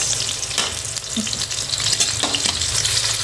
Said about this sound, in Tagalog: Yan, nalagyan na yung ating bawang. Sunod na yung sibuyas.